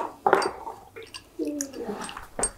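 Iron dye bath being stirred in a pot for natural botanical dyeing, with close, uneven sloshing and metallic scraping in short bursts separated by brief pauses.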